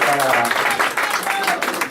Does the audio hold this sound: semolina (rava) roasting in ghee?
no